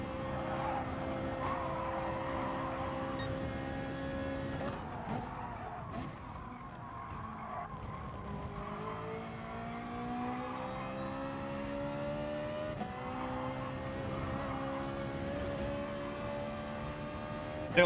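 A race car circling a track in Gran Turismo Sport during FIA race practice, a steady engine drone rising and falling through gear changes, with tire scrub and squeal through the corners, continuous and fairly close.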